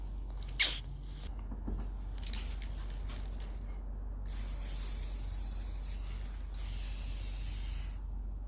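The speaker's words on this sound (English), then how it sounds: "And then I'm gonna WD-40 it and then see if it slides a little better." WD-40 sprays in one short sharp burst onto the sunroof track of a Honda Civic, followed by soft hissy rustling and quiet handling noises at close range.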